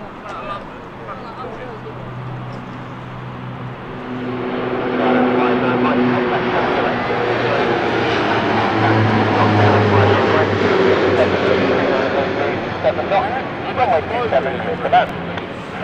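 A Dash 8 turboprop airliner at London City Airport roars nearby, its engine drone swelling after a few seconds and holding loud and steady, with a voice audible under it.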